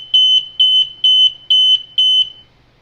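Five short, loud, shrill tones from a Servis smoke detector follow a quick, steady march-time rhythm, heard close up and alone before stopping.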